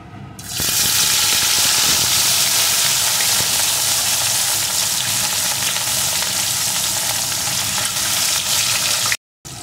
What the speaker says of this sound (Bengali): তেলটাকে গরম করে নিয়ে এখন আমি লবণ হলুদ মাখানো মাছগুলোকে এর ভিতরে দিয়ে দেবো